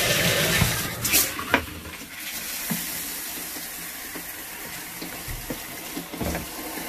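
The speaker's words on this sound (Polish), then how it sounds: "Dobra, puszczamy dalej wodę." Water pours from a tap into a mini washing machine holding dirty blouses, a steady close rush with scattered splashes and light clattering throughout, loudest at the start.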